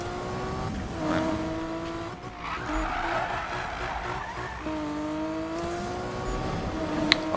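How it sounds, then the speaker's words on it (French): Tires skid and squeal as a car drifts in the Need for Speed racing game, with a steady engine drone and rising and falling pitch sweeps running continuously through the clip. "C'est un peu difficile d'avancer un drift là."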